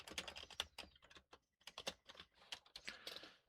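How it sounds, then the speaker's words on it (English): Someone types code on a computer keyboard, a quick run of close, crisp key clicks in short bursts with a brief pause in the middle and no talking. "I start typing something else as well."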